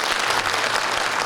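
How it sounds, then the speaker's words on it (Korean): Dense, steady applause from an audience at a Korean National Assembly member's political report meeting, loud and continuous throughout. "네, 큰 박수 부탁드립니다."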